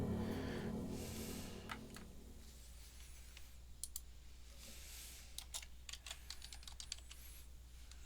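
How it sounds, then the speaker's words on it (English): Typing on a computer keyboard: scattered, uneven bursts of sharp key clicks, fairly close but quiet, over a low steady hum, with some soft handling noise at the start and no talk. "If you hear me typing, I am just trying to load the next part of the video, or next video."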